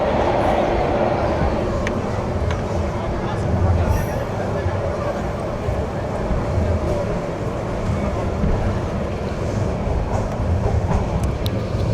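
The Mahanagar Provati train runs through Tongi railway station with a loud, steady rumble of wheels and carriages close by, faint clicks from the track, and voices mixed into the noise.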